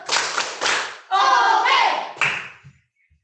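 A school class in Indonesia performs a rhythmic salute clap, loud, close bursts of clapping in a set pattern, interleaved with the pupils chanting together, then ending abruptly into silence.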